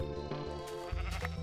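A sheep in Minecraft bleats in a few quick wavering calls over constant background game music, close and clear, with no speech.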